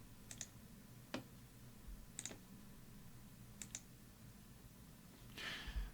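A computer mouse clicks a few times while using vision system software, crisp, sparse single and double clicks spaced out over quiet room tone.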